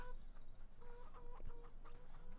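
Chickens clucking around a coop in Farming Simulator 17 on the De Terra Italica farm map, several short cackling calls scattered over a steady low background hum, moderately close.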